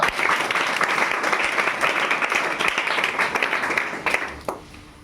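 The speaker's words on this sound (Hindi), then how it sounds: "तो चाहूंगा कि इतनी बार ताली हो जाए एक बार।" Audience applause at a school prize event for a top-scoring student: a dense, sustained burst of many hands clapping that holds steady, then thins and fades out near the end.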